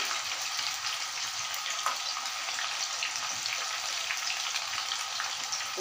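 Mushroom Manchurian pieces fry in a pan with a steady, close, even sizzle that runs unbroken throughout and carries a faint watery crackle, with no one speaking.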